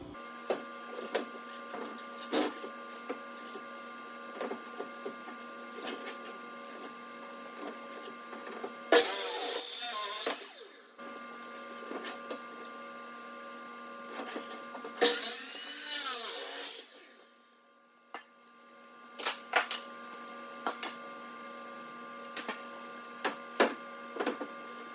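Lumber being cut to size with a saw on a mobile workbench for a roadside firewood stand, two loud cutting bursts of a few seconds each over a steady background hum, with scattered knocks between.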